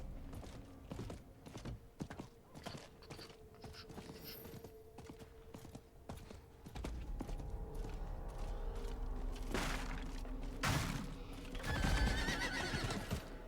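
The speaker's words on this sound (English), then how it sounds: "Let's get on the horse." In Diablo 4, a mount neighs and whinnies amid clip-clop hoofbeats and clicky game and keyboard sounds, getting louder and busier partway through with rumbling movement.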